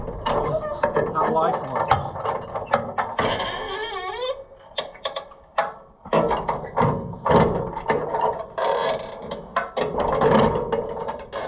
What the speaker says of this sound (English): Never oiled the handyman jack.